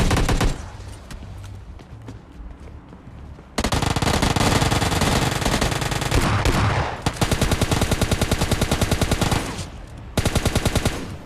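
Rapid bursts of automatic gunfire from PUBG Mobile Lite, loud and close, firing in long sustained strings with brief pauses between volleys.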